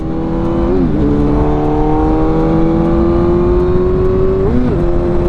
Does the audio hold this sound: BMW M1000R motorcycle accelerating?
yes